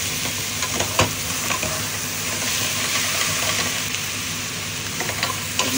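Meat, about 500 grams, sautéing over high heat in a pan for pinakbet, giving a steady close sizzle and hiss with occasional stirring scrapes throughout.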